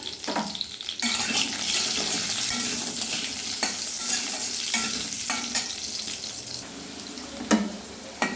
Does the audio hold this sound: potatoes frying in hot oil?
yes